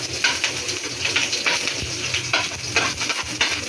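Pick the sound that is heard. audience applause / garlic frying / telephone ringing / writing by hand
garlic frying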